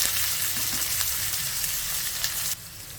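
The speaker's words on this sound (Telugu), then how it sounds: "ఈ ఉల్లిపాయ ముక్కల్ని ఒక 2 నిమిషాలు ఫ్రై చేసేసుకోవాలి." Chopped onions and curry leaves sizzle in a pan with a steady, bright hiss close up, then drop suddenly quieter near the end.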